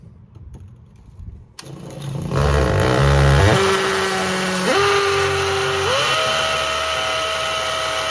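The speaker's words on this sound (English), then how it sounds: "And then I'm gonna start drilling." A power drill starts up and runs loudly and steadily, its pitch stepping up and down as it grinds into brick, close to the microphone.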